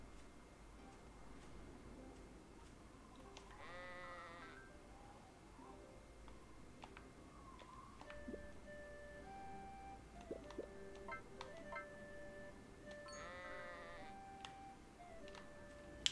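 Sheep bleat twice in a video game, one wavering call early and another later, set against soft ambient music and scattered small clicks and tones.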